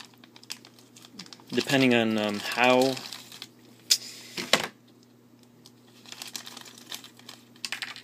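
A plastic bag taped at one end crinkles in sporadic bursts while a Transformers Masterpiece Thundercracker figure is unboxed, with a person briefly speaking over the rustling.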